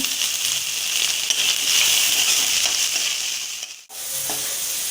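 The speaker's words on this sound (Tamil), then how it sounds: "வெங்காயம் வதங்கிட்டு இருக்கு." Onions sauté in a pan for a dry anchovy fish gravy, a steady loud sizzle with stirring scrapes that briefly cuts out near the end before resuming.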